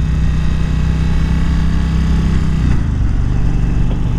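A 2020 Indian Springfield Dark Horse 116 motorcycle engine drones loud and steady while riding, a continuous rumble that shifts slightly in tone partway through.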